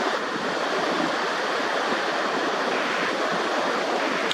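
Open sea seen from the shore, a constant broad wash of waves and surf mixed with wind rush on the microphone, steady and fairly loud throughout with no speech.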